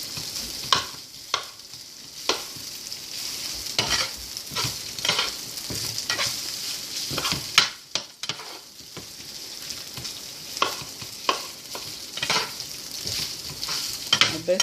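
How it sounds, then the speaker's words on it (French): Black pudding fries with onion in olive oil, giving a steady sizzle. A utensil stirs and scrapes the pan at intervals, heard close up with no talk. "Puis là, on va les laisser cuire avec l'oignon"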